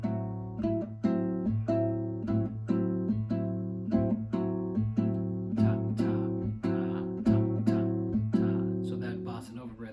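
Bossa nova rhythm guitar comping in a steady syncopated pattern over a deep bass line, chord strums repeating evenly for about ten seconds, clear and close with no voices.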